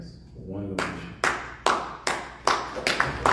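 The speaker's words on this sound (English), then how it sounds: "Thank you for clapping." Audience applause in a lecture hall during a real estate investment talk, several separate bursts of hand claps, fairly close and loud, after a quiet lead-in with a faint voice.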